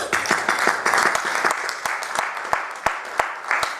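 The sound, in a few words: church congregation applauding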